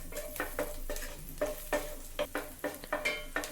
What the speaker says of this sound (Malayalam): ബട്ടർ ഒന്ന് ചൂടായ ശേഷം അതിലേക്ക് ഗാർലിക് ചെറുതായി അരിഞ്ഞ് ചേർത്ത് കൊടുക്കാം